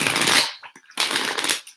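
Tarot cards shuffled by hand in two quick riffling bursts separated by a brief pause, close and crisp with no talking.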